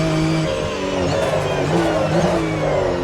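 Porsche Carrera Cup race car at the Kyalami circuit in the AMS2 racing simulator, a loud, high-revving engine note rising and shifting through gears, close and continuous with no talk.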